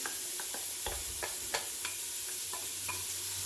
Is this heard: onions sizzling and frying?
yes